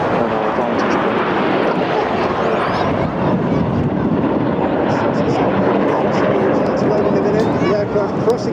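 Red Arrows jets roar past at the Clacton air show on the Essex coast, a loud, continuous broadband jet rush filling the whole stretch, with a commentator's voice running over it.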